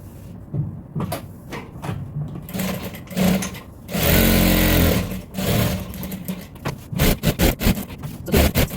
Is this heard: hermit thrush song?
no